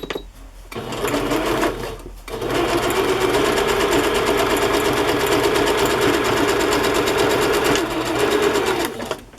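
A sewing machine zigzag-stitches braid onto feed sack fabric, a loud, fast, steady mechanical whir that runs almost continuously after a brief start and a short pause.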